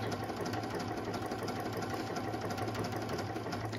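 Brother Innov-is 150 SE sewing machine running steadily while sewing a small zigzag stitch, with a continuous near, even motor hum and a rapid, regular needle rhythm throughout.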